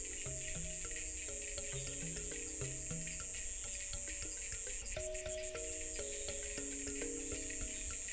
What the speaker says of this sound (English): The cicadas are in song.